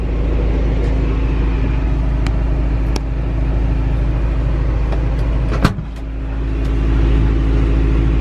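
Hard-body mini truck with headers and cold AC idling and cruising with the windows up, a steady low engine rumble throughout, with a few faint clicks and one sharp knock near the end.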